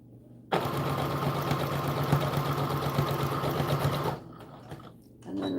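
A sewing machine runs a continuous fast-stitching burst of about three and a half seconds on a doll dress seam, a steady close whirring rattle, then stops and a few softer clicks and handling noises follow.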